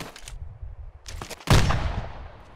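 A mortar fires in the military video game ArmA 2 with one heavy, sudden boom. Its rumbling tail fades out over about a second, after some quieter scattered thuds and clatter.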